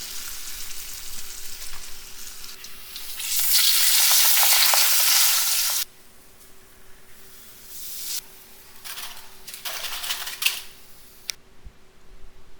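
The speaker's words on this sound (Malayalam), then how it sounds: "നമ്മൾ ആദ്യം എന്താ വെച്ചാൽ പപ്പടം കാച്ചുന്നുണ്ട്" Papadums fry in hot coconut oil in loud bursts of intense sizzling and crackle, each flaring up then dropping back to a quieter hiss between batches.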